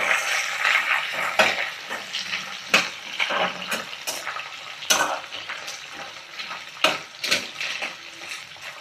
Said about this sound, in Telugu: ఆయిల్ మరిగిన తర్వాత ఈ నెత్తళ్ళు అయితే వేయించుకుందాం